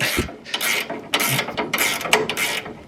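Metal chain adjusters being loosened on an MF40 combine harvester, giving irregular ratcheting clicks and rasping scrapes in short bursts, close and fairly loud, with no talk.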